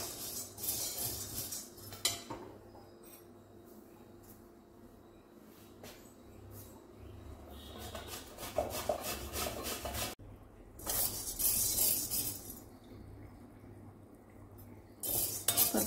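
Lentils roasting in a pan for idly podi are stirred and scraped with a utensil, making rough, close rasping strokes in bursts with quieter pauses between, and no talking.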